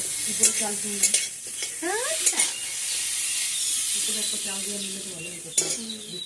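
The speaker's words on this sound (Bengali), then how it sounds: "এখানে মুখি কুচিটা খুব ভালো করে আমি কষিয়ে নিয়ে একদম দেখো ভাজা ভাজা করে নিয়ে দিই" Chopped wild mukhi kochu (taro) fries in a pan while being stirred, a steady sizzle broken by scraping strokes and a few sharp utensil clinks against the pan, with faint chirping in the background.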